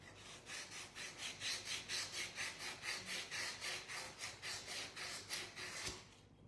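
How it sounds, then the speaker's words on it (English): A glazed, painted decoupage piece is sanded by hand in steady, even back-and-forth strokes, about twenty rhythmic raspy passes, close and alone. "I will sand it again."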